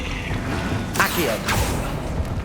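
Accio summoning spell in Hogwarts Legacy, a swift magical whoosh with two bright sweeping bursts over a low rumbling game backdrop, with a few light thumps.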